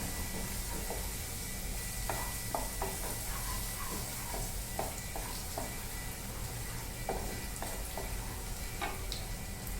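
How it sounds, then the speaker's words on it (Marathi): Ginger and garlic fry in a pan with a faint, steady sizzle, broken by light ticking pops and occasional stirring taps. "आता फ्राय होत आले अद्रक आणि लसूण."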